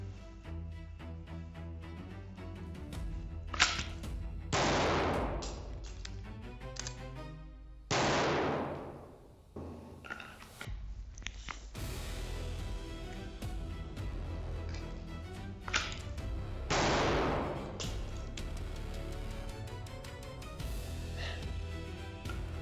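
Pistol shots fired in a shooting drill of drawing and a forced reload: a handful of sharp, loud cracks spread across the clip with gaps and handling noise between them. The cracks ring against a steady background.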